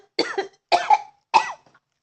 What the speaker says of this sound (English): I can cough like that without covering my mouth